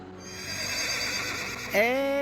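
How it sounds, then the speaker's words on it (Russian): A horse whinnies loudly near the end after being pulled free from a rut, its neigh rising over steady background noise and faint human voices. "Ну все, спасли лошадь, она пошла."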